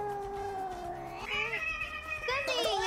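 A cat meows in several drawn-out, rising wails, close and fairly loud, the calls running back to back over a soft low rumble.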